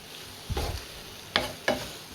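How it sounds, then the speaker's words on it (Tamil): Chicken, onion and gravy being sautéed in a pan give a soft sizzle, broken by three quick scraping stirs of the spatula up close. "வெங்காயத்தை சேர்த்து நல்லா நம்ம வதக்கி விட்டாச்சு"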